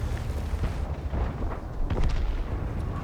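A heavy tank cannon fires in World of Tanks, a deep rumbling boom that rolls on for a few seconds with a layered low roar and scattered crackles.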